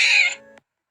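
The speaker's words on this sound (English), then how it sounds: "C is for cat." A domestic cat gives a single clear meow lasting about half a second, close and alone, followed by silence.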